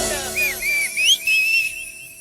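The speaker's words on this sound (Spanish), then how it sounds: "una silbadita y nos vamos." A melodic whistled tune with rising and sliding pitches, carried over music playing underneath.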